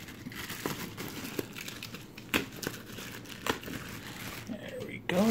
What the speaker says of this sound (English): So let's go ahead and get the tissue paper off.